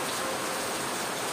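Steady rain falls in a dense, even hiss with no distinct drops or breaks, close and moderately loud.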